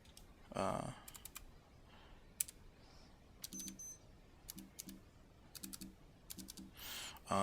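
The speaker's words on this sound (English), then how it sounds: "If you were to be typing, it doesn't make a ton of noise" Bursts of light keyboard clicking come in short clusters, soft and close, with a few louder taps and quiet gaps between them.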